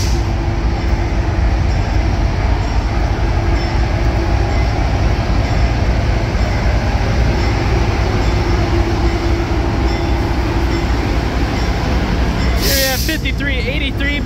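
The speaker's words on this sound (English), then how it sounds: "which was lined up with the U30C Burlington Northern locomotive, and I got a couple shots of it as it took off" Burlington Northern U30C diesel locomotive pulling away at Diesel Days at the Illinois Railway Museum, a loud steady engine roar and rumble of rolling wheels held close throughout, with a brief sharp hiss or squeal near the end.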